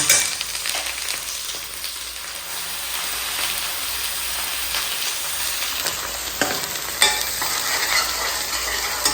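Spices sizzle and crackle steadily in hot oil as a tempering for shahi paneer, a close, continuous frying hiss with occasional stirring scrapes.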